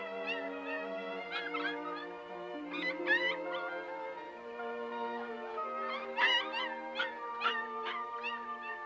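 Newborn puppies, a litter of seven, whimpering and whining in high, wavering cries that overlap almost continuously, close and steady, with no speech.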